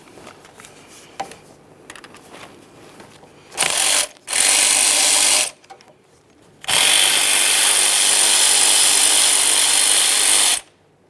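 A ratchet loosening 12mm bolts on a plate of a 2007-2013 Acura MDX, with loud bursts of rapid clicking, one short, another about two seconds, and a longer run of several seconds, separated by quiet handling noises.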